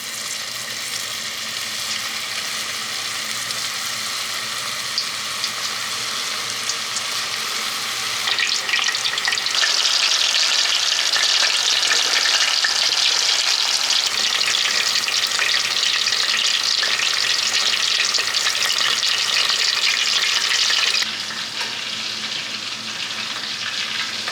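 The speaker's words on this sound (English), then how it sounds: "I cannot wait to hear this sizzle." Steady, loud sizzling of shrimp frying in hot oil, with a crackling hiss that swells for a stretch in the middle before easing back.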